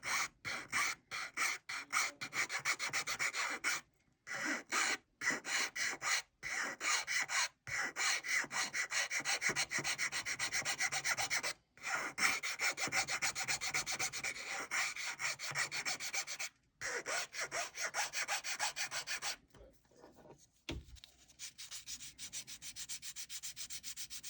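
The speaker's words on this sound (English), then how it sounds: "Notice I keep my file angled, so I'm not cutting directly on that spine, just kind of going around it." A file rasps across the cane of a bassoon reed in close, repeated scraping strokes that come in runs separated by brief pauses, with no one talking.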